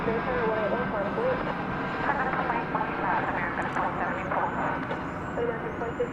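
An American Airlines jet takes off at DFW Airport with a steady, loud roar of engine noise, while air traffic control radio voices talk over it throughout.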